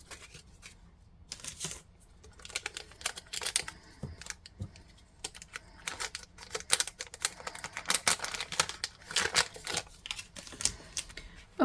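A scratch card being scratched by hand, quick dry scraping bursts in uneven runs, close and fairly quiet, with short pauses between strokes.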